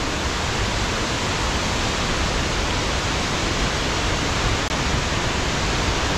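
A steady, close roar of falling water fills the air at the waterfall in Barranco del Infierno, Adeje, Tenerife, dense and unbroken apart from one tiny click, with no speech.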